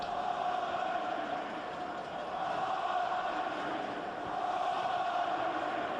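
A dense, continuous roar from a football stadium crowd at Oliver Kahn's Bayern Munich testimonial match, swelling and dipping slightly throughout with no distinct voices.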